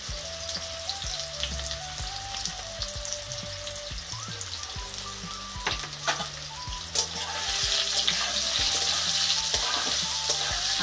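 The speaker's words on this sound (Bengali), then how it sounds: "দেখো এই তেলেই আবার আলুগুলো ভেজে নেব" Boiled potatoes with turmeric fry in hot oil in a pan, giving a steady, close crackling sizzle that swells louder toward the end over soft background music, with no talking.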